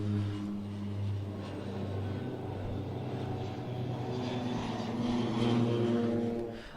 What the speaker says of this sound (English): The PC-7 team, 9 Pilatus turbo trainers, Swiss Air Force